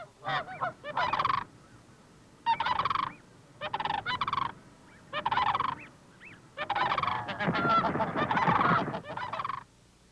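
Snow geese, parents guarding their goslings near nesting cranes, give loud, harsh honking calls in repeated bursts that overlap into a noisy chorus toward the end, close and clear.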